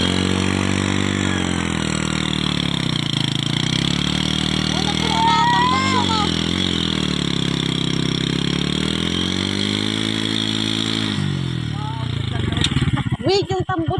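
A motorcycle engine idles steadily with a low rumbling exhaust throughout, while people talk nearby; a brief rev and clatter near the end.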